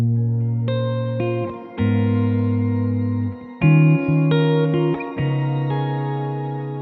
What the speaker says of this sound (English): now this reverb is quite a lot, so the mix button is quite up